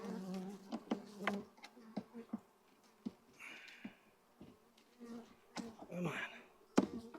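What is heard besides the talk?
honeybees buzzing at a weak hive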